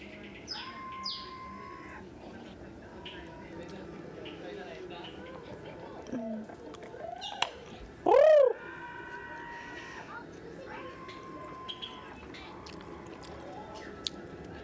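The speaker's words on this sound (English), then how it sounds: "I like how they did the birds on the canopy." Soft bird chirps and a warbling call in a video game's canopy ambience sound over quiet background, with a person talking faintly at times.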